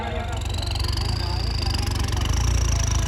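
Tractor engine running at a tractor fair in Punjab: a steady, low, throbbing drone that continues unbroken, with an announcer's voice in the background.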